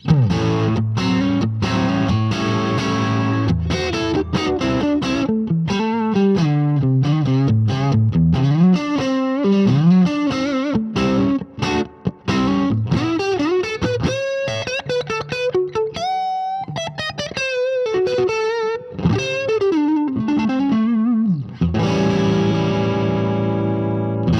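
A Fender Elite Telecaster on its neck pickup plays warm, effects-laden lead lines and chords with echo and chorus, loud and continuous with no voices.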